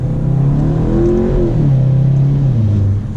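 Engine of a 2018 Volkswagen Golf GTI MK7.5 with DSG gearbox pulling under acceleration, a steady close-up interior drone that rises in pitch, drops at a gear change, then climbs again, with no talk.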